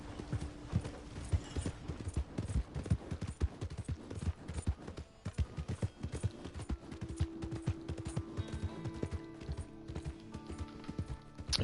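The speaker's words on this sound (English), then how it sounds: "You just can let the horse trot." Horse hooves clip-clopping at a steady trot in a video game, a continuous rhythmic patter of sharp hoofbeats with faint mechanical creaks and a soft background tone.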